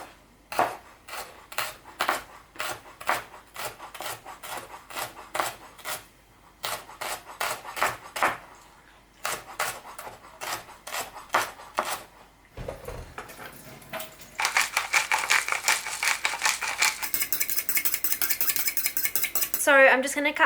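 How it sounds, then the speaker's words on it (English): A knife chops vegetables such as beetroot and potatoes for a salad in quick, crisp, evenly spaced strikes on a board, in bursts with short pauses, then gives way to a steady broadband scraping noise. "it'll just film you chopping everything"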